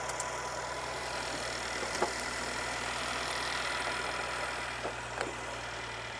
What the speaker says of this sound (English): So you guys can hear the engine sounds good.